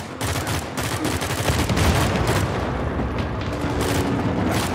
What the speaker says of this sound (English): They're firing on us, Captain.